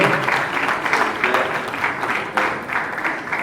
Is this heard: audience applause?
yes